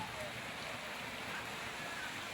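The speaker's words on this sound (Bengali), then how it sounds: "হালকা পাতলা ঝিরঝির করে বৃষ্টি হচ্ছে।" Light drizzle falls on a street, a steady, soft broadband hiss of rain that stays even and continuous throughout with no distinct drops standing out.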